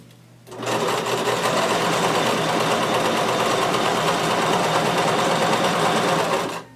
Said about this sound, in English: Lower your needle, begin sewing,